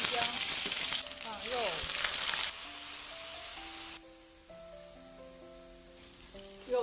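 Meat stir-frying in hot oil with ginger in a home wok, a steady sizzle that is loud for the first few seconds and then fades to a quiet hiss as faint background music carries on.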